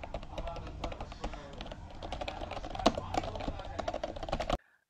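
Rapid, uneven tapping of keys on a Keybee retro typewriter-style wireless keyboard, close and crisp, with a few louder strokes, continuing steadily for several seconds before stopping abruptly.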